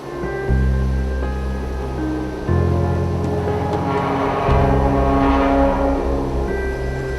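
Water rushing out of a canal lock, heard from a small paddled boat down in the deep lock chamber: a loud, continuous, roaring rush with a steady humming drone beneath that shifts in level a few times.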